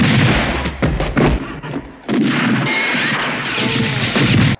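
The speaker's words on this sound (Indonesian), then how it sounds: "terdengar banyak suara kuda dan tembakan di luar bar" Gunshots and horses outside a bar in the Western film Once Upon a Time in the West: a chaotic run of loud bangs, crashes and thumps with pounding commotion, near and continuous.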